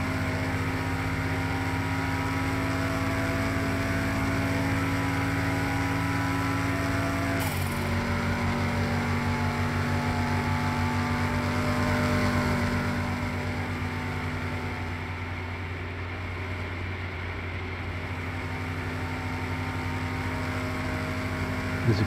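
A 2003 Hyundai Tiburon engine drones at top speed in sixth gear in Car Mechanic Simulator 2021, a steady high-revving whine with one brief pitch shift partway through, continuous and loud with no talking.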